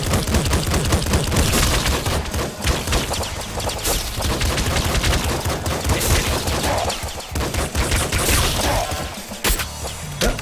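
Dense, continuous automatic gunfire and bouncing bullets in the video game Nuclear Throne, loud rapid bursts filling the whole stretch with crashes mixed in and no talking.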